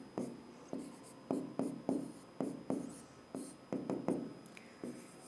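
Chalk or a marker taps and strokes across a classroom board in short, scratchy bursts, roughly a dozen quick strokes at an irregular pace, close and alone.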